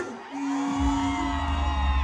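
A concert crowd at a soca show whoops and screams, a loud sustained roar rising after a brief shout, with music running underneath.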